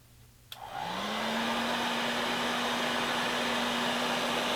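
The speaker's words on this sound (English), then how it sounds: "So the heat gun like this works great." A handheld heat gun switches on with a click and ramps up to a steady, close, loud blowing roar with a rising whine, shrinking heat shrink tubing to repair broken glasses.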